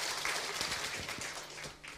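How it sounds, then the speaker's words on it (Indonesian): A church congregation claps during a sermon, a fairly faint spread of many hands with a few sharper individual claps standing out, continuing steadily for the whole stretch. "Yuk kita beri tepuk tangan untuk kebenaran ini."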